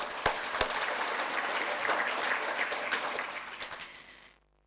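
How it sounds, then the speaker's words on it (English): A conference audience applauds in a dense, steady burst of clapping that holds for several seconds and then quickly dies away into silence. "So let's give Peter a round of applause"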